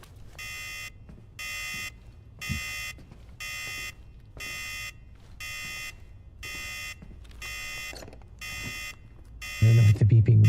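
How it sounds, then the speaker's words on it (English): Electronic beeping repeats in a steady pattern of about ten evenly spaced, bright tones, each lasting roughly half a second with short gaps, loud and close; a burst of other sound enters at the very end. "I don't know what the beeping means."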